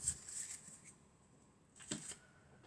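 Tarot cards are drawn and handled in two short, soft flurries of papery shuffling and snapping, quiet and close, separated by near silence.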